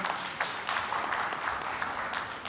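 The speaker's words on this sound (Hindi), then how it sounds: "इनके लिए ज़ोरदार तालियां" A live audience at a mind-reading stage show claps for a volunteer, a loud, dense burst of applause lasting throughout, with individual claps standing out.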